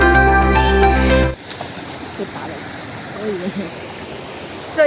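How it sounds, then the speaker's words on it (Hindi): Kotte Falls, a waterfall in Coorg, gives a steady, broad rushing roar once a short burst of music cuts off, with faint voices now and then over the water. "हम लोग अभी है कोटे फॉल्स पे"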